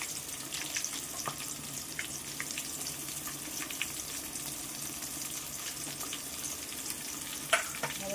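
Chopped onion dropped into hot oil for a chicken gravy, giving a steady low sizzle and crackle with scattered small pops and occasional stirring clatter, quiet and continuous with no voices.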